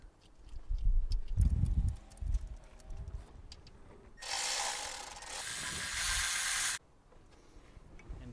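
A hand ratchet tightens the tensioner bolt on a Toyota Celica during alternator replacement, with quick clicking pawl bursts, knocks of metal parts and a loud buzzing ratchet run in the middle, close and without talk.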